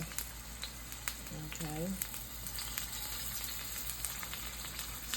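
Seasoning sizzling as it goes into a frying pan for Jamaican ackee and saltfish, a steady close hiss with scattered crackles while a person talks briefly over it.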